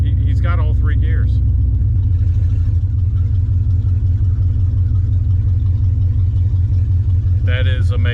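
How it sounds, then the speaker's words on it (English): A 1969 Plymouth's swapped-in V8 engine runs with a loud, steady low rumble and pulsing exhaust throughout, while people talk briefly at the start and end. "Car is running, driving down the road again."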